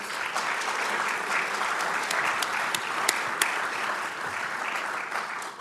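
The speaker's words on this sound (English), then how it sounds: "If you'll join me in giving me these panelists a round of applause, please." Audience applause for panelists at a mass timber panel event in Atlanta: sustained, even clapping from a sizeable crowd, with a few sharper individual claps standing out.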